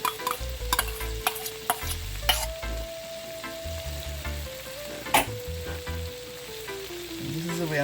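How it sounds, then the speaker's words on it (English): An egg fries in a pan of oil with a small piece of butter, giving a quiet, steady sizzle punctuated by occasional clicks and taps of a utensil, close by with no talk. "I add a little piece of butter in my oil, so I'm going to add my egg."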